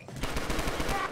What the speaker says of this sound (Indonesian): Gua ditembak peluru